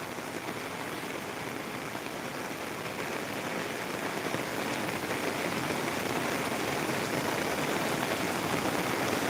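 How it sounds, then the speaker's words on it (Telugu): Heavy rain pouring down steadily, a dense, loud, continuous hiss of drops hitting surfaces that holds even across the whole stretch with no voices. "మనకు ఈ వర్షం మంచి వర్షం కురుస్తుంది"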